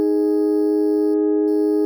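A sine-wave FM synth holds a steady, sustained pitched tone with bright upper overtones that drop out briefly and then return, playing alone.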